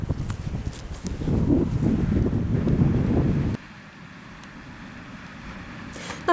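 Wind gusting on the foreshore of the River Thames in London, a loud blustery rush buffeting the microphone that drops abruptly to a quieter steady breeze, with no talk.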